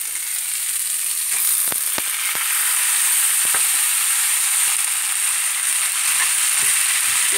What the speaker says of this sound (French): je vais ajouter le riz basmati que j'avais rincé et tremper pendant une bonne demi-heure